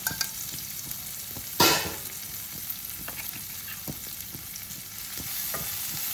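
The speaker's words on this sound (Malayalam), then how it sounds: "ഗീ ചൂടായിട്ട് ഇതിലോട്ട് നമ്മൾ കട്ട് ചെയ്ത് വെച്ചേക്കുന്ന ഓണിയൻ നന്നായിട്ട് ഒന്ന് നല്ലോണം വഴറ്റിയെടുക്കുക." Chopped onion sautés in hot ghee with a steady sizzle, broken by scattered clicks of a spoon stirring in the pan and one louder scrape or clatter early on.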